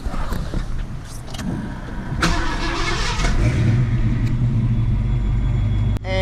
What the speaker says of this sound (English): We'll go ahead and start the car up so that you can hear it.